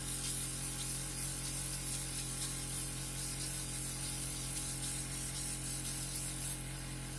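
An airbrush fed by a three-speed air compressor on high sprays makeup foundation, giving a steady, close hiss over a constant low motor hum for the whole stretch.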